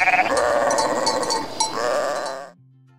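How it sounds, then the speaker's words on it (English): Sheep at a picnic spot bleat loudly and close, several wavering overlapping calls that fill the whole few seconds before cutting off. "Some sheep came."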